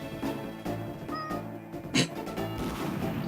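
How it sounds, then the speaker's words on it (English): Cats meowing and caterwauling indoors late at night: several drawn-out, wavering yowls and meows close by, one after another, with a sharp knock midway. "The kitties are going nuts, and it's 2:30."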